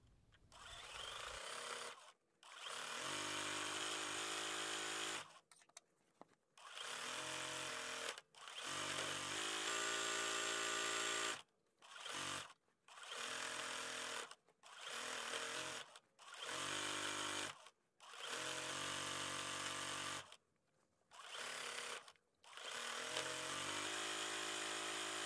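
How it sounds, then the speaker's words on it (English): A sewing machine stitches down the sashing on a t-shirt quilt, running in a series of loud, close bursts of several seconds each, separated by short silent stops, with no talking. "I'll bring you along as I sew down the sashing for this first row."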